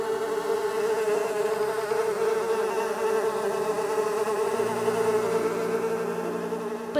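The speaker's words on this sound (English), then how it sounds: "The flies buzzed into the houses and filled Pharaoh's palace." Flies swarming as a plague in a retold Bible story, a dense continuous buzzing drone that holds steady and fills the space, with no voices over it.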